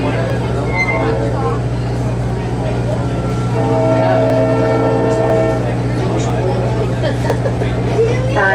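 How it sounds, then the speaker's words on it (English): Cape Cod Central Railroad dinner train sounding its whistle, a sustained multi-tone blast rising over the rumble of the moving train, with people talking nearby. "we still sound those whistles"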